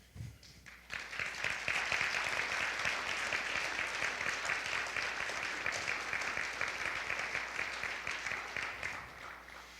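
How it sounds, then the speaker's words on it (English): A church congregation applauds at a State of the Church gathering, steady dense clapping that rises fast after a brief quiet start and holds strong and close throughout, with no voices above it. "both sides of the aisle are clapping"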